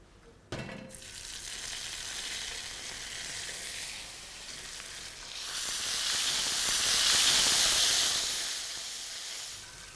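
Cumin seeds sizzle and crackle in hot cooking oil in a home kitchen, a steady frying hiss that starts abruptly, holds, then swells louder midway with bright spitting before easing slightly, close and alone with no talk.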